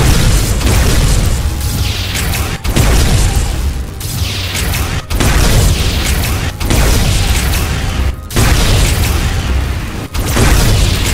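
In a Minecraft game, rapid shooting and explosions hit a Cartoon Cat creature: loud, heavy booms burst repeatedly in a steady rhythm, each followed by a rumbling tail, nearly alone with little talk.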